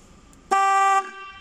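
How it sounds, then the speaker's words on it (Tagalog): A rewired car horn gives one short, loud, bright honk of about half a second against a quiet background. "titistingin po natin ngayon yung ating busina"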